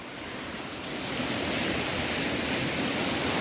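A waterfall tumbles beside a towering rock formation on a Korean mountain trail. It makes a continuous broad rushing roar that swells slightly louder partway through and then holds steady, with no voices.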